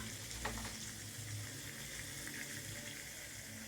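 Snails fry in a mix of oil and water with a quiet, steady sizzle and faint bubbling throughout, with no voices.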